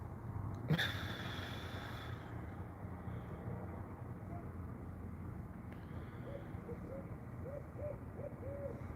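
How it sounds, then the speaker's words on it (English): An owl hoots outdoors at night, a short series of soft, low, evenly spaced hoots in the latter half over a steady hum of distant night ambience, with a brief sharp noise near the start. "Yeah, there's an owl out here. I think he lives over the neighbor's tree."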